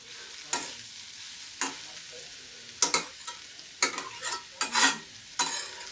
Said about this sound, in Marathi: कोबी एकसारखा मधून मधून हलवायचं